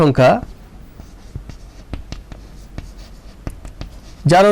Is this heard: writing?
yes